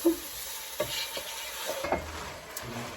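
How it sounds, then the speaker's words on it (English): Lamb sizzles steadily as it browns in a hot pan on an AGA range while a utensil scrapes and stirs it now and then, with a few soft clinks against the metal. "stirring it frequently, just so the meat just browns all over"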